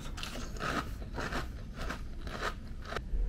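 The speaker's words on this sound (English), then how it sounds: "Decided to get my favorite cereal, Cinnamon Toast Crunch, and some milk as my dessert." Cinnamon Toast Crunch cereal with milk being eaten, a series of five or six close, crisp crunching bites in a steady rhythm, alone and fairly quiet.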